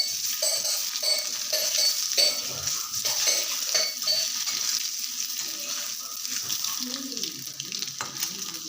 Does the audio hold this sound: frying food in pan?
yes